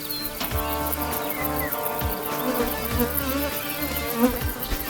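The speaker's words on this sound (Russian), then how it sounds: "Что-то сегодня пчелки злые у нас." Angry honeybees buzz steadily around an apiary during a May honey harvest, a dense, continuous hum with individual bees droning close past, no talking.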